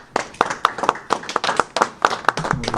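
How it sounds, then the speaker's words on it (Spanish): Scattered clapping from a small group opening a ceremony held at Canal HV, with Chile's Culture minister Fernando Dufó and Justice minister Marcela Concha present, sharp irregular claps close by, with a faint voice near the end. "Comienza la ceremonia con un aplauso general."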